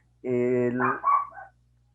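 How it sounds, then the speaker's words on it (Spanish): A dog barks nearby: one sustained, whining bark-howl followed by shorter yips, loud and close, indoors during an online electrical infrastructure presentation. "Disculpen a mi perro que está participando en la sesión."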